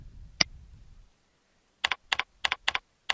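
Computer keyboard typing search terms: a single click, a pause, then a quick run of crisp, close keystrokes in paired bursts.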